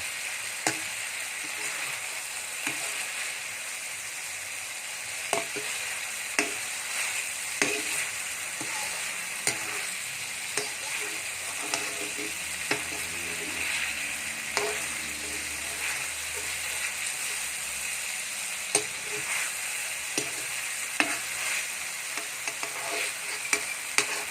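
Chicken breast stir-fried with oyster sauce in a pan gives a steady, loud sizzle with frequent sharp scraping and clinking stirring strokes throughout, close up.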